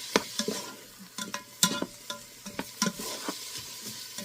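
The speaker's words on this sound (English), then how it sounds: "we're going to saute these onions" Onions sizzle and hiss in a hot pan while a utensil stirs them with scattered scraping clicks.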